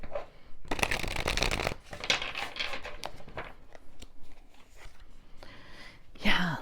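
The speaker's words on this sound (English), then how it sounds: "Let's pull a card on that and see what that means." Tarot cards shuffled and pulled from the deck, a dense papery riffle followed by softer sliding and flicking as a card is drawn, close and fairly quiet, with a voice faintly present.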